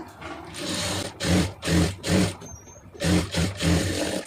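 A sewing machine runs in repeated short bursts, stitching the armhole seam of a blouse with a folded edge, each burst a steady mechanical whirr with brief pauses between, close and fairly loud, no voices.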